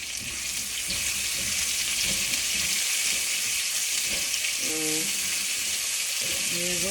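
Finely sliced onion, about one big onion, frying in a pan as a steady hissing sizzle for several seconds, with faint clinks and a few short tonal sounds near the end.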